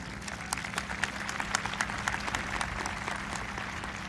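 High school graduation crowd claps continuously in a large space, a dense steady wash of many hands with sharper individual claps standing out, fairly distant and without speech.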